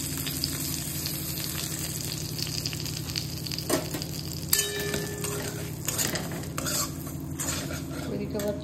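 Semolina is stirred as it fries in a pan, with a spoon scraping and clinking against the metal over a steady low sizzle and a few sharper utensil knocks.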